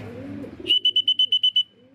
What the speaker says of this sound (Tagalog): Ayan, may lumanding na naman sa bubong mga kalapatids.